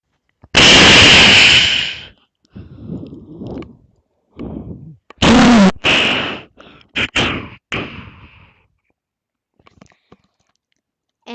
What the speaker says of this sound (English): most ponies are often frightened by the horrifying sound of explosions